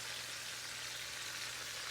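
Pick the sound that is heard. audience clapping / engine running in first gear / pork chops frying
pork chops frying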